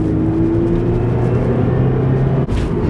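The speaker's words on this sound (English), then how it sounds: "I do love the way this car sounds" 2017 Subaru BRZ engine drones loudly from inside the cabin, a sustained tonal hum with rising and falling pitch under acceleration, cut short at the end.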